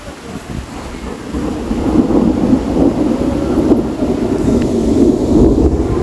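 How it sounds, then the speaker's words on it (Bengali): A low rolling rumble builds and holds, like distant thunder in a nor'wester storm, with wind buffeting the microphone and a faint hiss of rain. "ঘূর্ণিঝড় আসার আগ মুহূর্তে যেরকম অবস্থা হয় আকাশের কালবৈশাখী"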